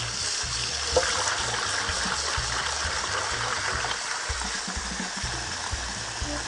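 Cold water pours steadily into a bowl, a continuous rushing, trickling flow at moderate distance with no talk over it.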